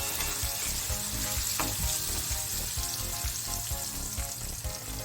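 Tomato pieces fry in a pan for a ground ivy gourd (tindora) curry, giving a steady, dense sizzle and crackle that holds loud and close throughout with no talking.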